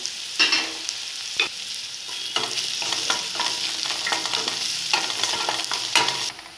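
Shallots with curry leaves and dried red chillies stir-frying in a pan, a steady close hiss of frying broken by repeated scraping stir strokes.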